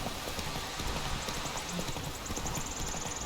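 A horse gallops in The Witcher video game, with fast, steady clip-clop hoofbeats running continuously over a low rumbling game soundscape.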